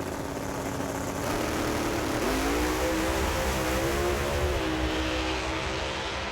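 Pro Modified drag racing cars roar loudly and continuously at an NHRA event in St. Louis, their engine note rising and falling as the drivers go on and off the throttle, with a steady wash of crowd and track noise.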